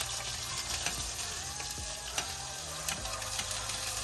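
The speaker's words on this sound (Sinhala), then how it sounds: "දැන් තෙල් ටිකට අපි දැන් මෙතන කපාගත්තු ලුණු ටික ඉස්සෙල්ලම දාගන්න ඕන." Chopped onions and chillies fry in hot oil for a Sri Lankan egg curry, a dense steady sizzle close by, with occasional scraping stirs and light clicks, no voices.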